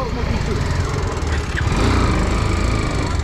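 A motorbike engine runs close by outdoors in Rolpa, Nepal, on the way to a fair, giving a steady, loud, rough drone throughout while voices talk over it.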